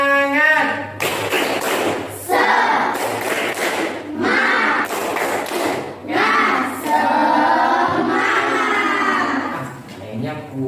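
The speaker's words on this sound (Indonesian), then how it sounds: "Ayo coba tepuk semangat." An audience performs the rhythmic tepuk semangat clap, with loud bursts of patterned clapping mixed with shouting voices and a thumping beat throughout.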